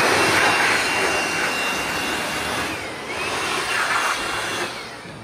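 Harbor Freight 20V cordless mini shop blower running at its third, strongest speed, blowing dust off a toolbox and an old Mustang; a steady, loud, continuous airy whoosh with a slight dip in the middle, no talking.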